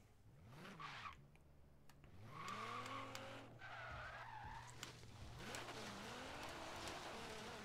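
A BMW V8 car engine in Forza Horizon 3 revs, rising and falling in pitch several times, with tire squeal and skidding mixed in, loud and close throughout.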